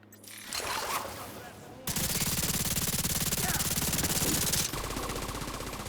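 Rapid automatic turret fire in The Division 2 video game, a loud continuous rattling burst of shots that holds steady for several seconds, with game sounds around it.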